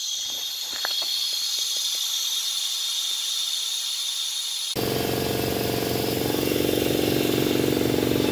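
Compressed air from an air compressor hissing through an opened valve into a Harbor Freight 110 lb pressurized abrasive blaster tank; faint ticks give way midway to a sudden loud, steady rushing hiss that keeps building.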